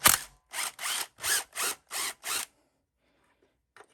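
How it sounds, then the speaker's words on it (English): An impact wrench takes two starter bolts off a Honda lawn tractor: six loud, even bursts of rattling hammering, each about a third of a second long, then silence. No one speaks. "I'm just going to use the impact here to take these 2 bolts out."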